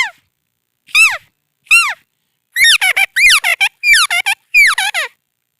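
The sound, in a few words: man imitating the call of a white partridge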